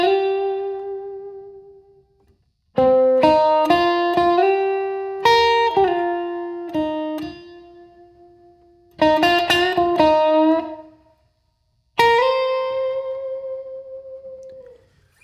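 Electric guitar through a Super Reverb amp with light overdrive plays a slow blues lick in C, separate sustained phrases and bent notes ringing out with pauses between them, clear and close with no talking.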